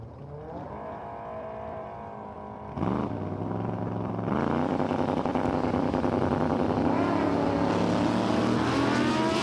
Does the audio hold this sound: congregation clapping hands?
no